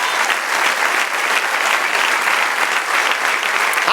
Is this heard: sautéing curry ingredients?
no